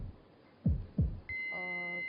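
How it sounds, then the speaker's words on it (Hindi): Heartbeat timer effect on a Hindi TV quiz show: two heavy low thumps in quick succession, followed by a steady electronic tone and a layered humming drone. "तो आपकी धड़कनें शुरू होती हैं अब।"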